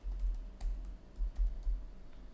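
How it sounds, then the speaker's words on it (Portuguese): Computer keyboard keys tapped in short clustered bursts while entering a server name during a TOTVS Protheus 12.1.2410 software installation, quiet and close with no talk. "você pode digitar localhost."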